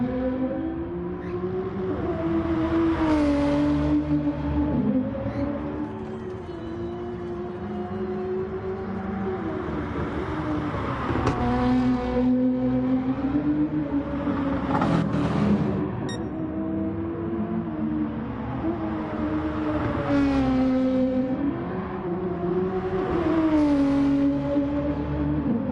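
Race car engines in Gran Turismo Sport at Sardegna, one car's engine droning steadily as it revs up through gears and drops back in repeated cycles during warm-up laps, loud and close with no talking.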